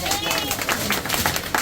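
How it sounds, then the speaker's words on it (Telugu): An audience claps at a political gathering, with quick, uneven hand claps mixed with crowd babble and a voice calling out over the clapping. "క్లాప్ క్లాప్ చలో క్లాప్"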